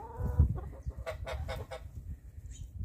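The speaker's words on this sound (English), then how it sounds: "He's a gander." A gander goose on a farm at feeding time honks in a quick series of four or five nasal calls, close by, over low rumbling background noise and a brief earlier squawk.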